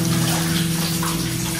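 Water flowing and dripping from the ceiling of the Izabela mine tunnel in Slovakia, a steady, loud rushing wash over a low constant hum, with no talking.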